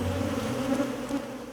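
A steady, close buzzing of honeybees hums continuously for a moment, alone without any voices.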